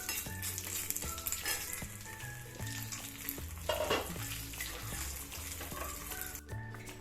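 Mustard seeds crackle and sizzle steadily in hot coconut oil in a pan for a Kerala brinjal curry, with quick popping bursts and faint utensil clinks, and no voices over the frying.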